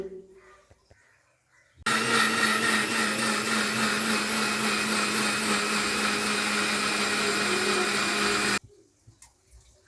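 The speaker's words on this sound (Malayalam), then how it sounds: "ഇനി നമുക്കിതൊന്ന് അരച്ചെടുക്കാം ഒന്ന് നന്നായിട്ട് അരക്കണ്ട ഒന്ന് ക്രഷ് ചെയ്തെടുത്താൽ മതി" A kitchen mixer grinder coarsely crushes chillies in one loud, steady whir lasting about seven seconds. It starts abruptly and stops abruptly, with quiet room sound before and after.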